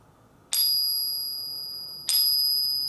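A 1950 Benjamin Franklin silver half dollar rings twice, each strike producing a bright, high, sustained metallic ping that slowly decays, quiet and close with no talking.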